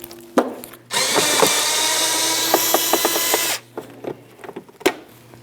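A power drill drives Phillips screws into the rear inner fender liner of a 2015-2024 Jeep Renegade: one loud, sustained whirring burst of about three seconds, framed by clicks and handling clatter before and after.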